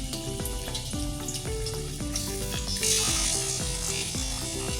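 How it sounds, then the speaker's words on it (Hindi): Chicken pieces fry over a high flame for Shinwari karahi, a loud, continuous oily sizzle close by with regular rhythmic ticking and scraping throughout. "इस चिकन को हम उस वक्त तक फ्राई करेंगे जब तक चिकन ब्राउन ना हो जाए"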